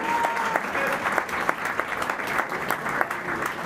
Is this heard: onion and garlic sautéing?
no